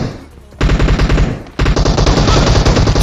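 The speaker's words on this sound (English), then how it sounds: "Okay, shotgun time" Shotgun fire in PUBG Mobile, loud and close: two dense bursts of blasts running together with barely a pause, the second lasting longer than the first.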